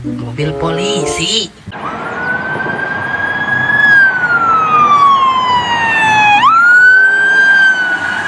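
Toy police car siren wailing loudly and close, a single electronic tone sliding slowly down then snapping back up in a repeating sweep, after a brief moment of voice at the start.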